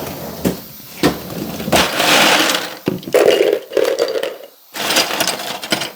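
Ice for an ice bath for hard-boiled eggs rattles and clatters into a container, with sharp cube impacts followed by a scooping, grinding jumble of ice, loud and close, with no talking.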